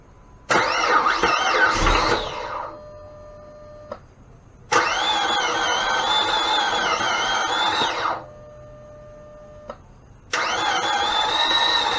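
A 2005 Dodge Magnum's 3.5-liter V6 cranks and fires up, catches, and settles into a buzzing idle, then is shut off and restarted twice more in clear, close bursts.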